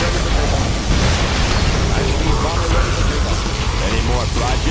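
A particle cannon laser blasts continuously in Command & Conquer Generals Zero Hour, a dense, loud rumbling roar lasting the whole stretch, with game voice lines and battle noise layered over it.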